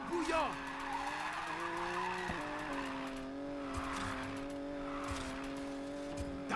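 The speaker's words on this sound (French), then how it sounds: "Les épreuves de drift par contre sur Need for Speed, c'est vraiment un régal." A car drifts in the racing game Need for Speed Payback, sustained tire squeal and skidding with a steady engine tone, a brief break near the middle, then the squeal carries on over game sounds.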